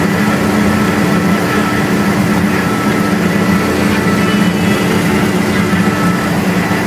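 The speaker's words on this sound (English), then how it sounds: "bandsaw" A Baileigh 18-inch semi-automatic bandsaw with a swivel head and 1.5-inch blade runs continuously, a loud, even mechanical hum and whir that holds steady with no voices.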